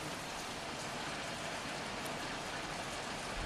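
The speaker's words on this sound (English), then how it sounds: "The rain is so loud it is." Heavy, loud rain pours down in a steady, dense wash of noise, continuous and unbroken, with no other sounds or voices over it.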